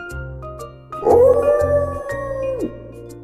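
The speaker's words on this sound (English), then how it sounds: "It's a wolf." A single long, rising-then-falling wolf howl rings out over a light musical beat, clear and prominent before fading away.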